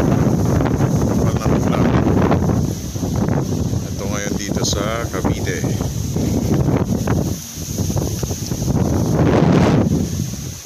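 Strong typhoon wind from Typhoon Rolly roars and buffets steadily in Cavite, Philippines, blasting against the microphone throughout while a person speaks over it.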